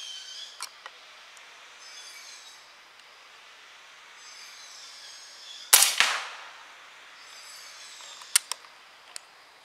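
A single sharp PCP air rifle shot at medium power cracks in a quiet setting, surrounded by a few faint clicks and small knocks.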